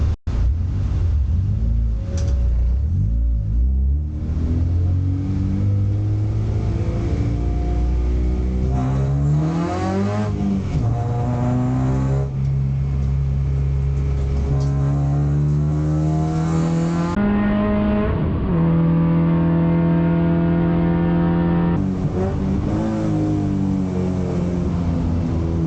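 A Honda enduro race car accelerates hard on a track, its engine revving loudly up and down through the gears over a steady, close, continuous drone.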